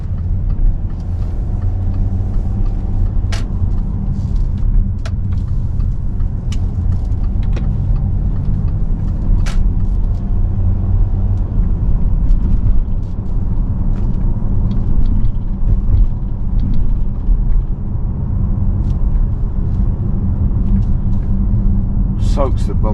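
A 2014 Audi Q7 3.0 TDI V6 S line quattro rolls over bumps, a deep steady cabin rumble of road and engine with faint knocks from the suspension, under someone talking inside the car.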